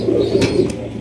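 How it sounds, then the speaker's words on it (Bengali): A pair of spangled strasser pigeons coo in a low, throaty, continuous murmur close by, with a couple of brief soft rustles over it. "একজোড়া স্প্যাঞ্জেল স্ট্রেচার কবুতর"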